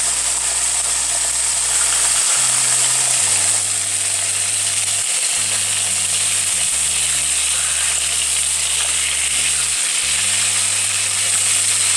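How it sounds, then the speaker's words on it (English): Pork chops sizzle and fry in a pan, a loud, close, continuous crackle and hiss holding steady throughout, with a low stepped background hum underneath and no speech. "We are going to cook our pork chops for about 2 to 3 minutes on each side, or until the meat is golden brown"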